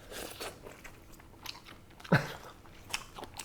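Close chewing and crunching of Vietnamese stir-fried beef vermicelli noodles with lettuce leaves, soft mouth sounds and one sharper bite midway, with no talking.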